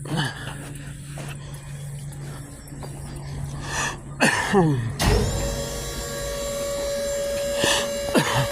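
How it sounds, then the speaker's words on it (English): A dump trailer bed, hitched behind an SUV, being lowered with an electric hydraulic pump: a steady mechanical whine, then a louder motor hum with rising tones and clunks, heard close by with no talking. "Let's lower it down, close the gate."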